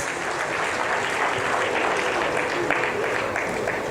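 Clapping from a formal audience at a book launch, a dense continuous patter of many hands at steady volume throughout, with no voices standing out.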